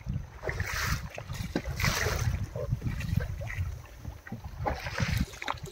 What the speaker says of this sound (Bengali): দেখুন দেখুন তুফানটা, দেখুন নৌকা পুরো ভিজিয়ে দিয়েছে